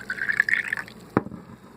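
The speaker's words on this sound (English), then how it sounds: "let me pour some into my glass." Homemade soy milk is poured into a glass, a close, steady liquid fill rising in pitch for under a second, followed by a single sharp clink and quiet.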